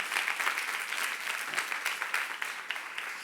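A Korean church youth congregation claps during a sermon, a fairly soft but continuous crowd applause with fast uneven hand claps throughout.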